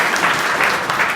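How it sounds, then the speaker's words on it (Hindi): Schoolchildren in a class 8 to 10 classroom at an inter college clap together in a dense, steady burst of applause, close and loud, with no talking over it. "इनके लिए ताली बजाओ।"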